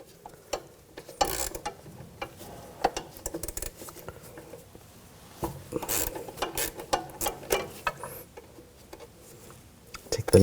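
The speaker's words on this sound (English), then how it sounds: "Using a 9mm wrench, put it on the stud, then a 10mm socket." A wrench and a 10mm socket ratchet a nut off a strut stud on a 2000-2006 BMW X5. Faint, irregular clicks and metallic taps come close up in short bursts, with quiet pauses between.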